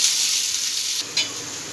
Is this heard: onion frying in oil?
yes